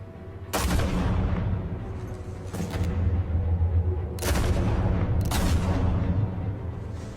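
Gunshots in the Batman Realm of Shadows video game: four loud, sharp blasts at uneven intervals, each trailing into a rumbling tail over a steady low background hum.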